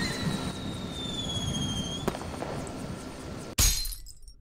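A propane tank blows up in the Henry Stickmin game, a sudden sharp explosive crack near the end after a busy stretch of game sounds, with the aftermath quickly fading.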